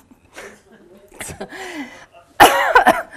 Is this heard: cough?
yes